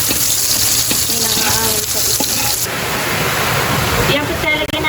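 Chopped onion and garlic sizzle loudly in hot oil in a home kitchen, with a steady, hissing fry that fills the whole stretch and shifts in intensity partway through.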